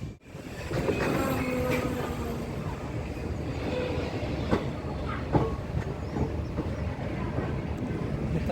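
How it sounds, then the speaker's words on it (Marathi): A Miraj DEMU train rolls into Kolhapur railway station with a low, steady rumble, scattered wheel clacks and brief squeals rising over it, fairly close and with no one speaking. "कोल्हापूर रेल्वे स्टेशनवरचं मिरज डेमो ट्रेनचं अरायवल"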